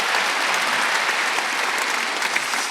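A congregation at a Korean church's Wednesday worship service claps together, a dense, even burst of applause heard close and loud for a few seconds with no talking over it.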